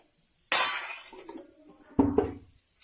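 Dishes, pots and pans knock together during washing, with two sharp clattering clinks close by about a second and a half apart and a quiet pause between them.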